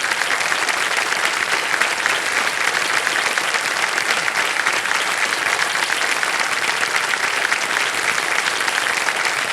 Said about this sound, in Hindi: ताली बज जाए इनके लिए।